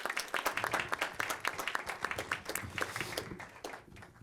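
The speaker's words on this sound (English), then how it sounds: "If we could give her one more round of applause" Applause rings out at a city council meeting, many hands clapping in a sharp, uneven patter that holds steady and then slowly thins toward the end.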